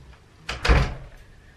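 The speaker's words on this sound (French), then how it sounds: "Allez, ferme la porte, à tout à l'heure." A door in a home is pushed shut, a single close, solid thump with a brief rattle that dies away quickly; no one speaks.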